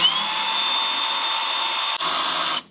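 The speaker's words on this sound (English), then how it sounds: "I'm gonna drill a hole here because my cabling is going to be on the left side." A power drill with a hole saw whines at high speed close up, cutting into an IKEA Milsbo cabinet, with a brief dip in pitch before it stops abruptly.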